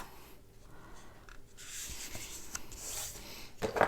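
Bone folder pressing and sliding along the fold of a half-folded card stock sheet, giving a close, dry rubbing and scraping with a few short strokes that build in intensity, no talking.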